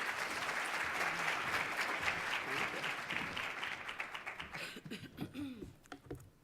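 Audience applause at a talk on farmed animals, sustained dense clapping from a crowd that thins into scattered individual claps toward the end.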